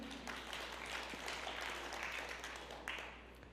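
Faint, diffuse clapping from a church congregation after a prayer, a soft continuous patter of many hands lasting a few seconds, with a slight swell near the end.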